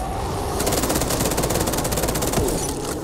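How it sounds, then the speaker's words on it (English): Rapid automatic fire from a G36K rifle in Call of Duty Black Ops 3 zombies mode, a loud sustained burst of evenly spaced shots lasting a couple of seconds before stopping. "This gun's powerful, G36K."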